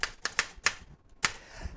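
A typewriter clacks out a run of crisp, close keystrokes in an uneven rhythm, about six sharp strikes with a short gap midway, and no voices.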